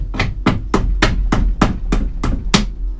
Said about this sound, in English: I could possibly try and bend them over with a hammer.